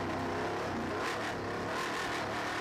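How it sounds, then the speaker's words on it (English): A Ford Raptor truck accelerates flat out in fourth gear across a dry lake bed, a continuous, fairly faint engine roar with a rising, whirring tone. "So I threw the thing in fourth gear and just hit the throttle"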